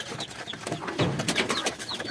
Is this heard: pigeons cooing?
yes